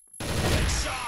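A loud, close burst of gunfire erupts in a Counter-Strike match after a brief silence, a dense rattle of overlapping shots that lasts about a second.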